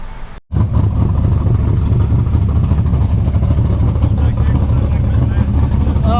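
Engine of a classic 1955 Chevy truck with an LS swap drones loudly and steadily from inside the cab while driving, with a downshift; after a brief dropout at the start the roar holds continuously, and faint voices sit beneath it.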